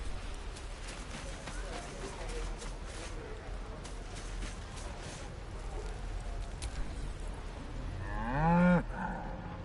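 A cow moos once in the Baldur's Gate 3 video game, a loud low call near the end that follows a long stretch of busy ambient game noise and faint voices.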